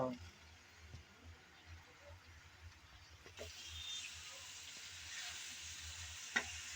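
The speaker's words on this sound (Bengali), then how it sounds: "এখন নেড়েচেড়ে ভালোভাবে মিশিয়ে দেব।" Malabar spinach greens and seeds are stirred while frying in a pan, a faint, soft sizzle with light scraping that grows a little brighter midway.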